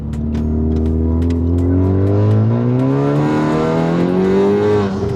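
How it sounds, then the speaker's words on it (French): A Honda Civic Type R FK8 accelerates hard with its turbo blowing, the engine note rising steadily through the rev range, loud and close from inside the car. "quand le turbo il souffle"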